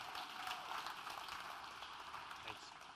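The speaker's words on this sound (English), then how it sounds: "Give him a round of applause." A conference audience applauds a speaker at an event about building Africa, with dense steady clapping throughout, heard at a moderate distance and fairly faint.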